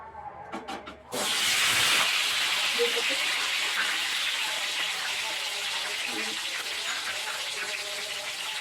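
Whole spices (dried red chillies, ginger, peppercorns, bay leaf, cinnamon, cloves and cardamom) hit hot oil in a pan with a sudden loud, hissing sizzle that stays strong and then eases slightly. A brief stretch of talk comes just before it.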